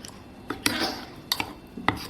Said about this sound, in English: We're going to pour it into this raita. So, and we're going to mix it thoroughly.